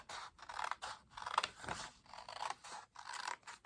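Scissors cut through cardstock for a Stampin' Up! treat box in a series of quiet, close snips and crisp slicing strokes at a steady rhythm.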